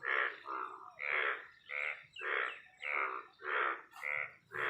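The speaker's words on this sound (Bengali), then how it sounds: "একদিকে সূর্যের আলো একদিকে ব্যাঙের ডাক" Frogs croak in a steady repeating series of about nine calls, each a rasping pulse spaced roughly half a second apart, fairly close and clear against a quiet natural background.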